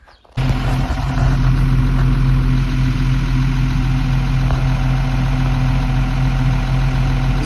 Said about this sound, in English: We got the 4020 over there on a rotary rake